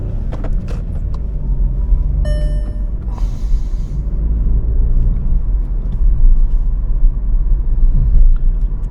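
A car engine driving uphill, a low steady rumble and road drone from inside the cabin, rising slightly in loudness, with a few brief clicks and a short beep partway through.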